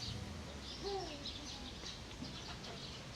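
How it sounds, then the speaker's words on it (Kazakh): Owls call softly in the background, a few faint hoots and calls over steady ambient noise, with no voices in the moment. "Өте әдемі құстар екен. Үкілер."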